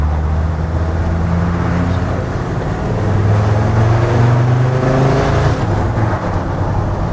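A Land Rover Defender Td5 110 diesel engine fitted with a GTB450 upgrade runs on a dyno. A loud, close drone climbs in pitch as the revs build, then holds a strong, steady whir.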